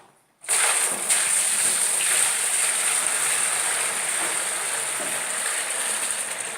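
Water pours into a bicycle-powered washing machine, a steady, hissing rush that begins abruptly after a short quiet moment and continues evenly close to the microphone.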